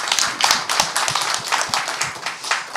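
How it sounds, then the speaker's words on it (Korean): A forum audience claps in a brief round of applause, with a modest number of distinct hand claps ringing out at close range in an uneven, overlapping rhythm. "다시 한번 사무관님께 박수 부탁드립니다."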